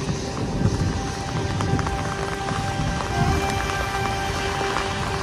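Steady heavy rain pouring down, a dense constant hiss with pattering across the surface, loud and continuous throughout.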